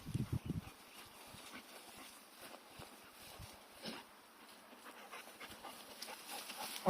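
A hunting dog pants softly and steadily, with light scuffing footsteps as it moves along; the sound is faint and fairly distant throughout.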